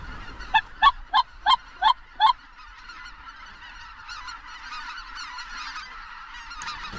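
Geese honk six times in a quick, evenly spaced burst during a goose and duck hunt in Alberta, followed by fainter distant honking and a soft wind-like background.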